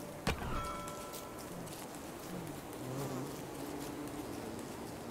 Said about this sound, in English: Found a wasp nest or beehive or whatever that is